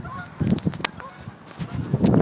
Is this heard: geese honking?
yes